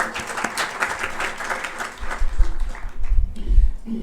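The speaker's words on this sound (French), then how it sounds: "Donc rien que pour ça, vous devrez vous applaudir." An audience at a Bitcoin conference in Dakar applauds itself, steady clapping that swells into heavier, louder bursts toward the end of the four seconds.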